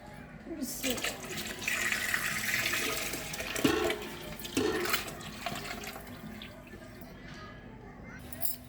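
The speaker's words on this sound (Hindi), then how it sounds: "और ये 10 किलो दूध मैंने ऐड कर दिया" Ten kilograms of milk pours into a large cooking pot of carrot kheer, making a continuous liquid rush and gurgle with a couple of dull clunks, while a voice faintly talks underneath.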